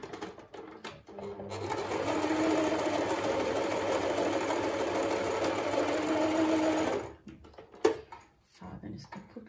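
A Medion 10964 sewing machine stitches in a steady, rapid whir for several seconds, then stops, followed by a few clicks and handling sounds; a voice speaks at the start.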